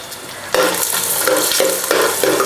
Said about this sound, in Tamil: பாருங்கள், வெங்காயத்தை வந்து 2 நிமிஷம் வதக்கிட்டேன்.